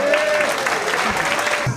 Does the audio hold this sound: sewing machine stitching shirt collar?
no